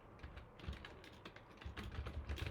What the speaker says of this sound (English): Maybe you type ways to test reactivity